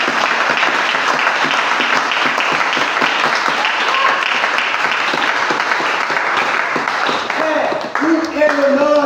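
A church congregation applauds in sustained, dense clapping that fills the whole stretch, with a few louder individual claps and brief tonal notes near the end.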